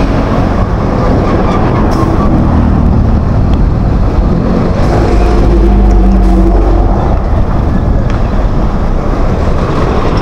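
Loud, dense vehicle noise on Maharlika Highway during heavy morning traffic. A continuous heavy rumble and rushing swells as vehicles pass close by.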